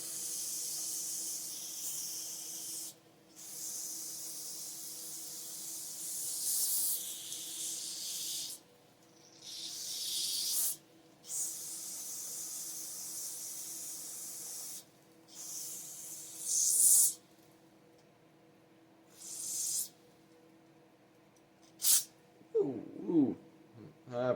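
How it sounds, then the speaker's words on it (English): Compressed air blasting through the holes of a Homelite Super XL chainsaw carburetor in a series of loud, close hissing bursts of varying length separated by pauses, ending with some clattering handling noise. "get your air compressor out and running, and blow through all these holes"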